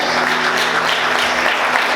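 Loud, dense applause from a church congregation during a worship service, a thick continuous wash of clapping filling the whole moment at full strength, with a faint low tonal hum underneath.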